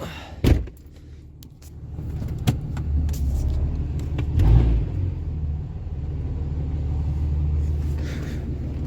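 Cummins diesel truck with an 8-inch axle dump exhaust pulling away and driving on the road, a deep steady rumbling drone with a few clunks and thumps early on, close and fairly loud, with no talking.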